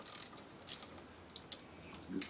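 A socket wrench ratchets on a part of a 1985 Chevy K10 truck, quick clicking bursts in short runs, faint and close, with no talk.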